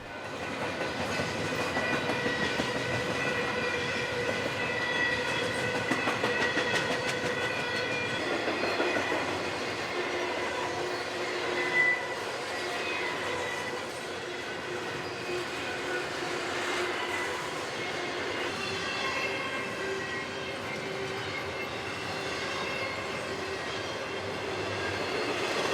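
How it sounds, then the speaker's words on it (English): A northbound Union Pacific freight train of empty hoppers climbs Cajon Pass on the Mojave Subdivision, a steady loud rumble of engines with rolling wheel clatter held throughout, no voices. "A northbound UP ascended Cajon Pass on the Mojave Sub with empty hoppers bound for Trona."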